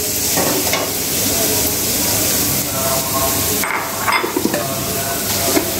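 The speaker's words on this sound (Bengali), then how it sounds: "রসুন আর পেঁয়াজ এটা দিয়ে একটু ভাজবা।" Garlic and onion fry with dry red chillies in a pan for a mixed vegetable curry, a steady loud sizzle with scraping stirring strokes and a few sharp clinks near the end.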